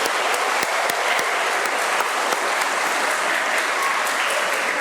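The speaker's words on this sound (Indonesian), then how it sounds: "Mari kita tepuk tangan." Congregation applauding at a First Communion Mass, a full, steady wash of many hands clapping that fills the church from start to finish, loud and unbroken.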